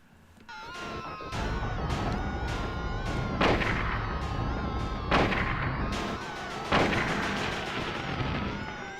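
Several sharp gunshots in the Silent Hill video game ring out at irregular intervals over a dense, continuous game soundscape, each report loud and close.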